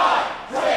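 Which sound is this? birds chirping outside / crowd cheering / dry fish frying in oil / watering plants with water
crowd cheering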